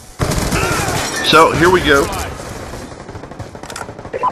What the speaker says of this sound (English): I'm still shooting people in Call of Duty